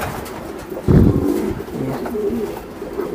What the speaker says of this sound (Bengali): ফার্স্ট ক্লাস একটা কবুতর।